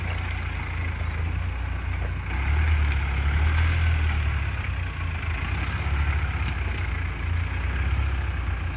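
An off-road vehicle engine running steadily while driving forward and reverse in steep mud, a continuous low rumble with slight swells in revs, close and unbroken with no talk.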